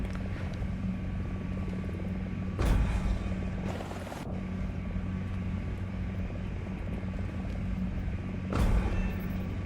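AH-64E Apache attack helicopter in the War Thunder video game, a steady, loud rotor and engine drone that fills the whole stretch, with two brief louder bursts partway through.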